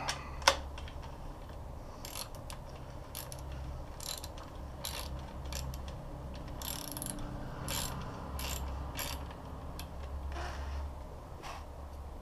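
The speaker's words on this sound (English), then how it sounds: "you can drive it in with a wrench or a socket wrench" A socket wrench ratchets in short clicking bursts as it tightens nuts on the fender of a black edition 60v Ecomoped, with quiet pauses between the bursts over a low steady hum.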